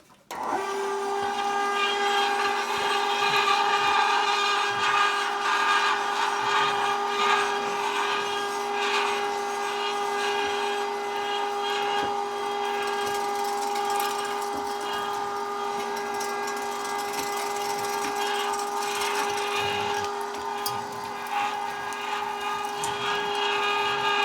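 A meat grinder steadily grinding moose meat salvaged from an Alaska roadkill, with no fat added, runs as a continuous, loud motor whine with a strong steady hum and faint clatter throughout.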